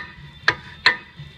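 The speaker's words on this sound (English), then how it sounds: "What you're hearing there is actually these brake pads here." Rear brake pads on a 2005–2007 Toyota Camry rub as the wheel hub is turned by hand, making two sharp, faint scraping ticks about a half-second apart, then a softer third, with no talk.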